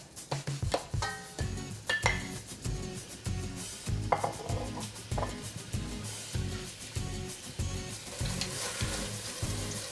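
A pound of ground beef browns in hot garlic oil in a sauce pot, with a quiet, steady sizzle broken by repeated spoon scrapes and clinks against the pot, close and without voices.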